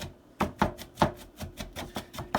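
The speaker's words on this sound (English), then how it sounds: "finely dicing up some onions." Knife chopping finely through onions on a cutting board in a home kitchen, a run of close, crisp thuds at an uneven rhythm, with a few louder strikes early on.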